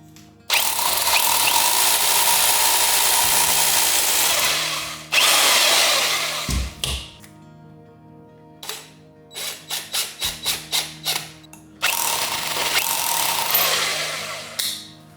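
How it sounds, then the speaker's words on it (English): A power drill bores holes into the wall of a stone house for light switches. Long loud grinding bursts alternate with a run of short rapid pulses and brief pauses. "So for each light switch, I have to drill 3 holes up and down the wall."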